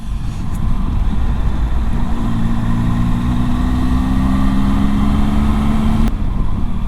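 Several motorbikes coming up a popular road, a loud continuous engine drone with rising tonal whine building over a steady rumble, overpowering the background.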